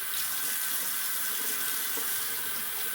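Tap water runs steadily into a sink during a face rinse after a wet shave, a close, continuous splashing rush with no voices.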